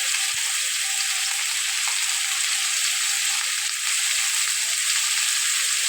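Spices sizzle in hot oil in a pan for a spicy goat head masala curry, a steady, even hiss of frying that runs unbroken, close and fairly loud, with no talking.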